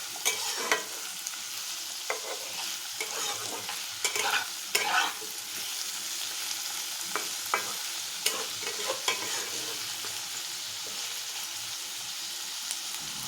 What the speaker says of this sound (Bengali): পেঁয়াজের সাথে সাথে আলুগুলো ভাজা হয়ে যাবে, তাই আমি একসাথেই দিয়ে দিলাম।